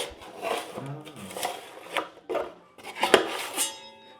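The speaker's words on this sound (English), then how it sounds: "take your knife, put this corner down in the bottom of the pan, scrape it, and then when you flip sides, scrape it" A putty knife scrapes plaster around the bottom of a mixing pan in repeated rasping strokes with metallic clinks, close and distinct, in irregular bursts.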